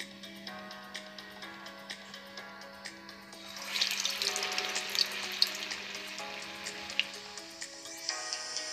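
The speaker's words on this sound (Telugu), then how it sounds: "ఆయిల్ బాగా వేడెక్కిందండి. ఇప్పుడు గారెలు వేస్తున్నాను." Urad dal vadas sizzle in hot oil, a soft crackling fry that swells partway through, under steady background music with faint ticks and pops.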